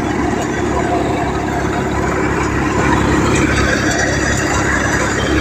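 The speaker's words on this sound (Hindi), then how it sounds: "वैसा भी ट्रैक्टर चल रहा है जोरों शोरों से" Tractor engine running hard during mustard threshing on a farm, a steady loud low rumble that holds throughout with broadband machine noise, and voices faintly present underneath.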